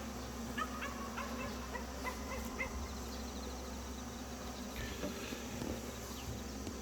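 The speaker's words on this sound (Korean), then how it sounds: "나머지 일벌들만 들어가면 되는데 한 장벌도 안 되는지 분봉이 났어요" A swarming honeybee colony fills the clip with a steady, dense buzz nearby, with faint higher chirps and clicks scattered over it.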